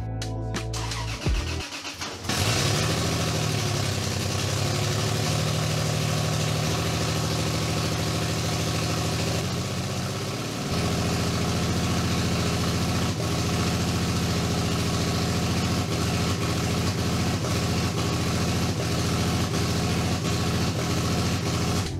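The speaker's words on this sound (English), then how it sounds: "I'm gonna try to start the car, let it idle." Toyota 2JZ engine suspected of a fault cranks briefly and catches, then settles into a loud, steady idle close by. The idle pitch dips and wavers partway through before holding even again.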